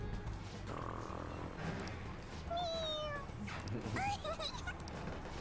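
Morgana, the cat from Persona 5 Royal, meows several times in quick succession, rising and wavering cries heard clearly over low game background noise.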